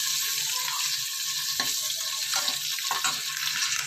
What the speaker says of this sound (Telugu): గుడ్లు వేయించుకున్నానండి